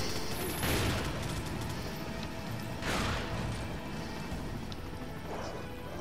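Pistol gunfire in Resident Evil 4: a few sharp, loud shots spaced several seconds apart, each with a crashing impact and brief tail over constant game background noise.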